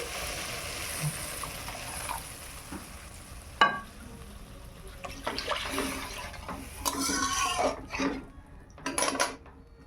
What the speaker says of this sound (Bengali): এখন আমি দেবো মশলা বাটা জল। আমি সরষে আর লঙ্কা বেটে নিয়েছি।